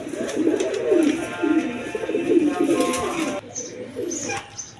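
Pigeons at a wholesale pigeon market cooing in repeated low, rolling phrases close by, several birds overlapping, with a faint chirp near the end.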